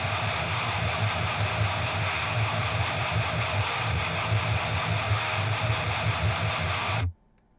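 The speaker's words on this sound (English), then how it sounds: "that's just a normal high gain tone with a HM2 in front of it" High-gain distorted electric guitar tone driven by an HM2 pedal, heard as a stereo pair: a dense, loud, continuous wall of chugging riffs with a fizzy, messy top end, cutting off abruptly near the end.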